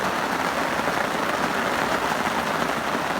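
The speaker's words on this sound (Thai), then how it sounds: "ดูครับฝนไม่ธรรมดานะฝน" Heavy rain pours at the Nong Pla Lai reservoir fishing spot, a dense, even hiss of countless drops hitting the surface, loud and close, with no talking.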